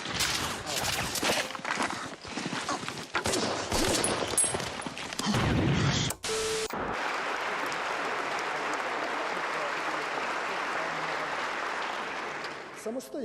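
Covering gunfire rattles in dense, rapid bursts of mixed shots, loud and close, for several seconds before giving way to a steady ambient hiss; voices are heard amid the shooting.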